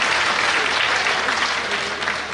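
Conference audience clapping hands together, a dense, steady burst of applause from a large crowd at a political party provincial conference, loud and continuous with no talking.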